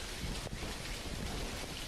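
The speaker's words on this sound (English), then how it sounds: "And speaking of rain, I'm over this rain" Steady, dense rain in the video game Dinkum, a continuous hiss with low rumbling underneath, with no voices.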